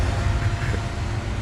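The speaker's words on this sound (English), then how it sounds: "We forgot to turn off the engines." Spaceship engines idle in the video game Star Citizen, a steady loud low rumble and broadband hum holding constant throughout with no talking.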